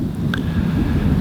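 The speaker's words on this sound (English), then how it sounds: "it's gonna be windy" Wind buffets an outdoor microphone in a steady low rumble that runs the whole length, loud and unbroken, with no voices over it.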